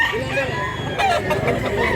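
Roosters and hens at a Mantalungon, Cebu market crow and cluck nearby amid crowd chatter, with a loud crow breaking out midway over the murmur of people talking.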